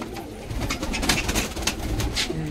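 Breeding Patiala pigeons in a fancier's loft give low, burbling coos that run together in a steady, near murmur, several birds overlapping without pause and no one speaking.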